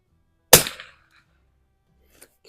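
A single sharp, loud rifle shot from a 1972 Anschutz 54 match rifle cracks out and decays quickly, followed by quiet with a couple of faint small clicks near the end.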